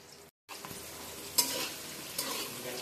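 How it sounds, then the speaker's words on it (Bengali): Pointed gourd (potol) fries in oil with salt and turmeric in a pan, a steady soft sizzle close by with a couple of scraping stirs, no voices. "ভালো করে আমি ভেজে নেব।"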